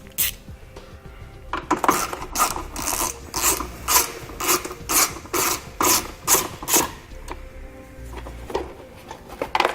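Ratchet loosening T30 Torx screws on a base plate trim piece, about ten quick rasping clicking bursts in an even rhythm, close and fairly loud, with a clink at the end.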